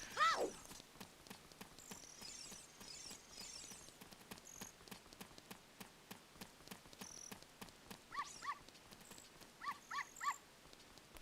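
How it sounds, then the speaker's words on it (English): A dog in the Hyrule Market of the video game Ocarina of Time gives short yips and barks in small bursts, moderately close, over a busy background of crowd chatter and footsteps. "Come with me, little doggy."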